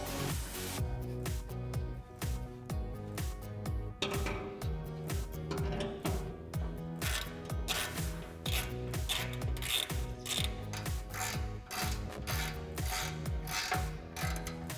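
Continuous rapid ratcheting clicks from a ratchet wrench driving front bumper bolts on a Jeep Wrangler JK/JL, close and loud, with brief pauses between strokes and no talking.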